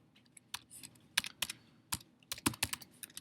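Typing on a computer keyboard during a classroom lecture, with quiet, irregular clicks and short bursts of keystrokes close to the microphone and no voices.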